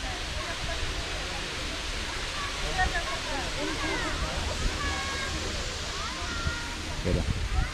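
The waterfall at Nazlı Bulaq in Quba, Azerbaijan roars as a steady, broad rushing wash of water close by, with faint voices and bird-like chirps in the background.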